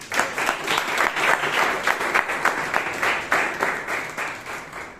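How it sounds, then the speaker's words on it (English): An audience at a Toastmasters meeting applauds a speaker, a steady, dense patter of many hands clapping that holds loud for the whole stretch with no voices over it. "Give a round of applause for Amrith."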